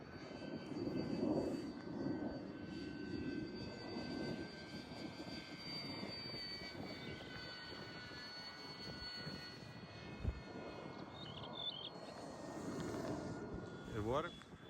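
A fast radio-controlled model airplane, a Freewing Eurofighter or E-flite Mustang, passes over a model airfield with a steady engine drone and a swell near the end, while people talk nearby.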